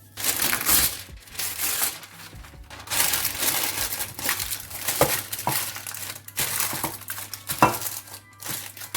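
Greaseproof, non-stick baking paper is crumpled and crinkled close up, in a dense, continuous rustling that swells and fades for several seconds without talk.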